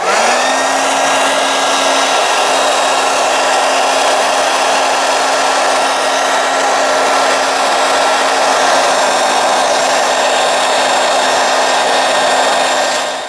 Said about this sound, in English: So I'm gonna use a hairdryer to heat it up and peel it off.